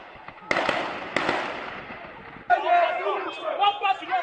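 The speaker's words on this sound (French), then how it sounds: "Des jets de gaz lacrymogènes et des coups de feu pour repousser les manifestants" Gunshots and tear gas canisters fired to push back protesters at Amba in Bafoussam, heard as two sharp blasts followed by a burst of loud crowd noise and shouting, with a distant street atmosphere throughout.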